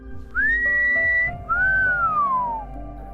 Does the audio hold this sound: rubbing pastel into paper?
no